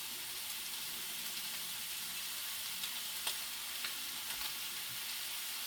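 Sausage browns in a frying pan with a steady, close sizzle and hiss, dotted with small pops and crackles of spattering fat, with no talking over it.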